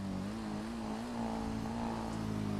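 A motorcycle engine in Grand Theft Auto V holds a steady, moderately loud drone with slight pitch shifts during a slow wheelie.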